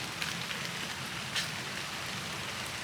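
Rain begins falling in a botanical garden, a steady close patter of drops on leaves and surfaces with a few louder individual hits, and no voices.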